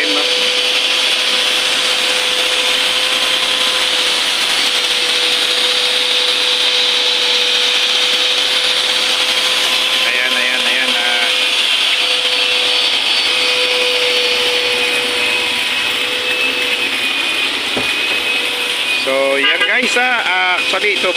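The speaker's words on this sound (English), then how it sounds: "para i-vacuum yung kalooban ng bote" A vacuum cleaner runs loud and constant as it sucks out the inside of a bottle, its steady whine holding throughout with rattling and scraping near the end, while people talk over it.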